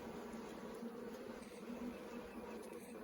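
Bees buzz around a split beehive in a continuous, soft drone close by, steady and low without breaks, with no speech over it.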